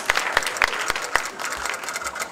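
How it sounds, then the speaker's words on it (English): A debate audience in Vancouver claps for candidates at an election event, dense steady applause with a few sharp individual claps standing out, close and fairly loud throughout. "a round of applause for our 3 women candidates"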